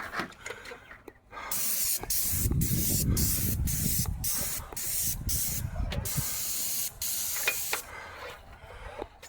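A paint sprayer lays down an exterior paint finish in repeated loud hissing bursts, each spray pass broken by brief pauses, close to the microphone.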